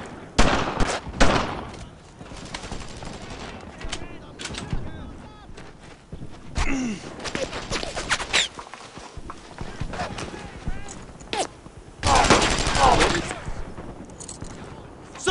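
Gunfire in the World War II shooter Brothers in Arms: Earned in Blood, sharp bursts and scattered shots mixed with shouting soldiers and hoofbeat-like clatter, peaking in a loud volley near the end.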